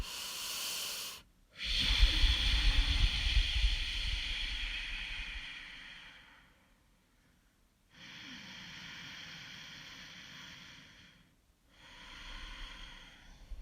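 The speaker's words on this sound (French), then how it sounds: "On rétrécit ainsi le passage de l'air et celui-ci émet un son, un peu à la Dark Vador en mode..." Ujjayi yoga breathing through a narrowed throat makes a hoarse, Darth Vader-like rushing sound, close and steady, in three long breaths separated by brief silences.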